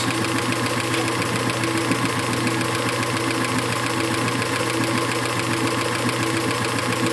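A circa 1919 Hjorth lathe runs steadily with a dense mechanical drone and rhythmic knocking hum, loud and constant throughout, with no talking.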